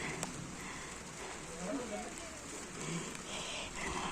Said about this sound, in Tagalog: Ang lakas na ng ulan. Umulan na.